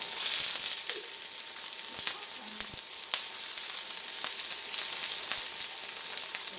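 Onion wedges fry in avocado oil in a pan with a steady close sizzle and scattered pops and crackles, some small knocks of utensils in between.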